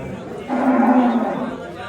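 A cow or bull moos once, loud and close, at a busy livestock market, with faint chatter around it.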